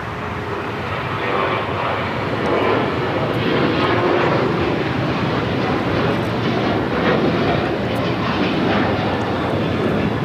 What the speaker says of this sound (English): We're looking at Aeromexico 644 coming in from Mexico City on the MAX 8.